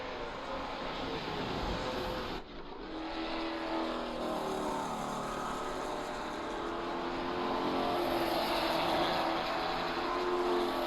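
A Ford GT40 race car at Watkins Glen drones with a steady engine note that briefly dips, then builds again as it pulls hard, loud and continuous from the cockpit.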